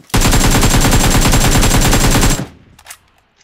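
Automatic gunfire in a battle royale video game, a loud rapid burst of evenly spaced shots lasting about two seconds, then a quick fade with a few faint clicks and rattles afterward.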